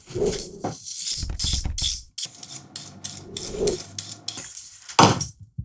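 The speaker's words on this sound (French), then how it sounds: "On va pouvoir maintenant passer aux carottes. On va pouvoir les éplucher." Carrots being peeled in a home kitchen, giving a series of close, rasping scrapes in short bursts with brief pauses between strokes.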